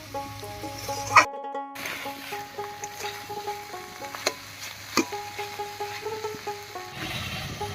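Freshly caught fish curry cooking in a pan in a village kitchen, a faint, steady sizzle and bubbling with a few soft clinks and light background tones, no one speaking.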